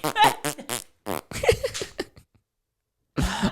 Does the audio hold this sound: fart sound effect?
yes